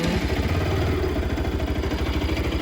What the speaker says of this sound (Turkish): şimdi çalıştırayım motoru.